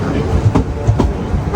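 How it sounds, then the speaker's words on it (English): Interior of a moving Southeastern passenger train, a loud steady rumble with rhythmic clacks of the wheels over rail joints and some faint talk in the carriage. "Right, guys, we're in the train right now."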